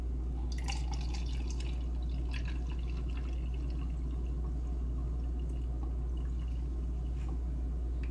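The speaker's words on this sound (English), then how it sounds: "So I'm going to measure out 1 cup of water." Warm water being measured into a cup and poured, heard as light trickling and dripping splashes against a steady low hum, faint and intermittent with no talking.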